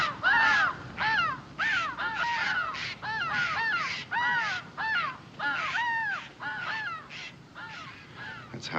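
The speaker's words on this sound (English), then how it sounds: "The jays and the crows squawk at us when we pass." Crows caw again and again in a wooded frontier setting, loud, harsh calls repeating in quick irregular bursts, several birds overlapping, with no talking.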